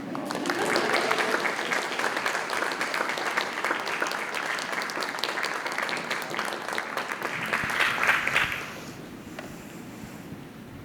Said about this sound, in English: You guys can keep applauding.